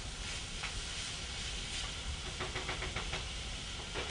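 Onion frying in a pan gives a steady, close sizzle and hiss that runs throughout, with brief scraping and clattering from stirring toward the end.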